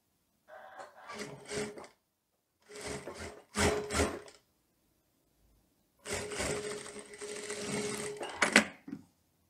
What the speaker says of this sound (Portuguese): Vamos costurar os decotes e também toda a parte da frente do casaco.